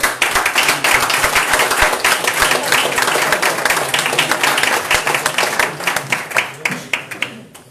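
A crowd claps at an open assembly on decent pensions, close and fairly loud, individual hand claps audible in a brisk rhythm that gradually thins out toward the end.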